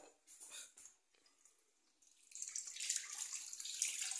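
Eggs rinsed by hand under a running kitchen tap, the water stream rising from quiet trickles to a steady hiss in the second half, close and alone.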